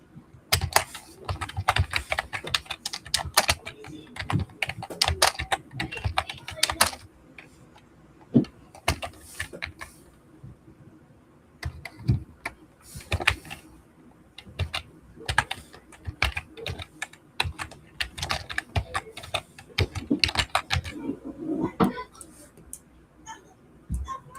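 Typing on a computer keyboard: rapid, irregular keystrokes arrive in clustered bursts with short pauses, close and fairly loud over a low background hum.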